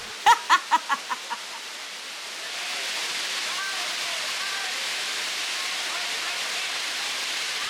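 Kempty Falls near Mussoorie, a branched waterfall whose single column splits into several falling streams, gives a steady broadband rush of water after a few short knocks at the start.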